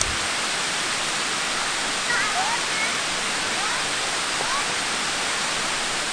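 Keo Waterfall near Kuang Si in Luang Prabang, Laos, roars as a constant broadband rush of falling water, with a few faint bird chirps just audible above it.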